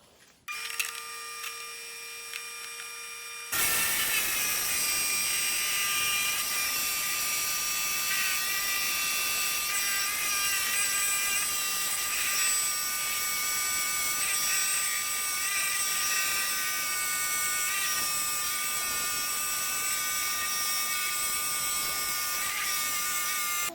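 A 6-inch saw runs loud and continuous through a cut, keeping a steady high whine with stacked tones after a short quieter lead-in. Nobody speaks.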